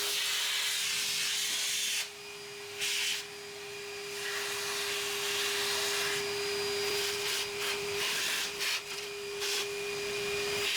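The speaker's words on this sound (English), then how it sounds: "I love how you just do a quick vacuuming once it's done" A vacuum nozzle sucks up aluminium chips inside a Cubiko desktop CNC mill after it finishes cutting keychain tools. It gives a continuous loud hiss with a steady whine and brief dips and rattles as the nozzle moves.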